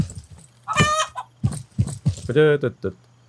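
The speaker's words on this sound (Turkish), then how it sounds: "Tavuk mu horoz mu bu?" A chicken in the farming game Estate Agent Simulator gives a few short, sharp clucks and squawks in quick bursts, heard close, with some speech around it.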